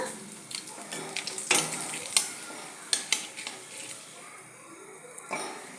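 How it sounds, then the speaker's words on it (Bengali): Dried red chillies and a bay leaf frying in hot oil give a soft steady sizzle, with sharp scrapes and clinks of a utensil stirring against the pan at irregular moments. "শুকনো লঙ্কাকে একটু লাল করে ভাজি করব। দিয়ে দেব তেজপাতা"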